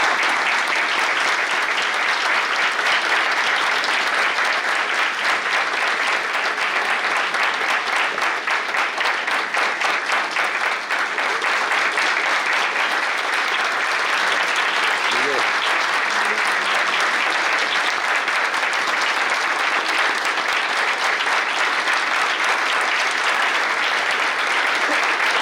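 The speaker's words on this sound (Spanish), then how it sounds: "estoy muy emocionado con sus aplausos" An auditorium audience at a forum in Madrid breaks into long, sustained applause, dense and even clapping that stays loud for the full stretch with no speech over it.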